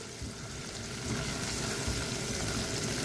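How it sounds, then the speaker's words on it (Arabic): Garlic frying in a couple of spoonfuls of oil in a pan ahead of tomato sauce for chicken spaghetti, giving a steady, close, broadband sizzle that holds evenly and swells slightly over the few seconds, with no voices. "وبعد ما نزلنا معلقتين من الزيت هنبدا ننزل بالثوم بتاعنا"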